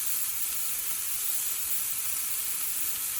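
A New York strip steak marinated in Haitian epis sears in a very hot pot, giving a steady, loud, close sizzle and hiss with no talking.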